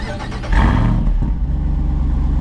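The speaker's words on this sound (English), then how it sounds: "look at this quad exhaust that is also featured on the Wrangler Rubicon 392" The quad exhaust of a 2025 Jeep Wrangler 392 Final Edition barks as the engine revs, a loud close surge of low rumble that settles into a deep idle.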